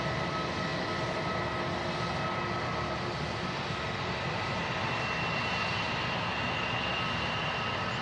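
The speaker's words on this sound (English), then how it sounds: "A TUI Dreamliner taxiing out as well." A TUI Boeing Dreamliner taxiing at Manchester Airport, a steady broad engine roar with a faint high whine, constant and fairly near.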